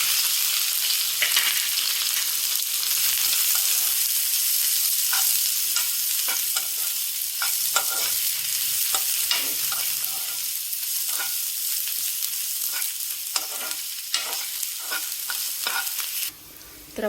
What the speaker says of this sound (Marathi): सर्वप्रथम आपल्याला आपल्या पॅनमध्ये आपल्या व्हेजेस फ्राय करून घ्यायच्या आहेत.